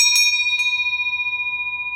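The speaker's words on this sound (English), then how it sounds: "This is, to me, our church bell." A large cast church bell rings out with two strikes close together, its deep, resonant tone humming on and slowly fading.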